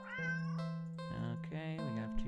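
A cat in a video game gives a couple of clear, drawn-out meows, close and prominent, with a voice talking over them.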